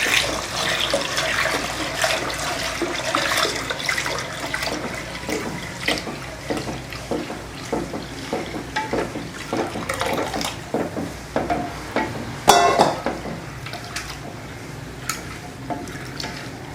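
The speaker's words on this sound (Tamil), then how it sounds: "அடுத்து நம்ம எடுத்து வச்ச பாலை கொஞ்சம் கொஞ்சமாக இதில் ஊற்றி கலந்துக்கலாம்" Milk poured a little at a time into a cooking wheat halwa mixture, giving a continuous watery splashing and stirring sound with scattered clinks, close and steady, no voices.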